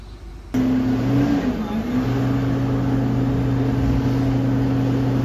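A boat's engine runs steadily with a constant droning hum, loud and close, along with broad wash and wind noise.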